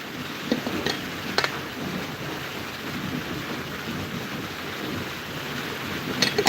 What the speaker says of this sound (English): Nikki, it's actually drizzling right now.